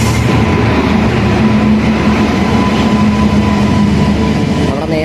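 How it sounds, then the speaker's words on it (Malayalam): The Netravati Express rumbles past on the railway as it overtakes, a loud, steady roar of wheels and carriages close by, with no voices over it. "നേത്രാവതി എക്സ്പ്രസ്സിൻ്റെ ഓവർടേക്കിംഗ് ആണ് ഇത്."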